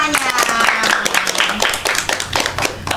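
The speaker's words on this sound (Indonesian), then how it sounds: "Tepuk tangan semuanya" A classroom of students claps together, a dense burst of close, irregular hand claps lasting a few seconds, with voices chattering underneath.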